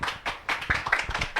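Scattered hand claps at a cultural heritage project launch ceremony, a handful of separate close claps in an uneven rhythm rather than a full ovation.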